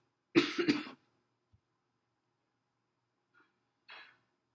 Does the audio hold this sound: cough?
yes